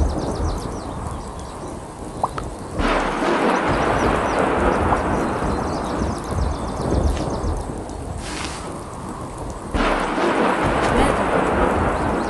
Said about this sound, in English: Thunderstorms are electrical storms with thunder,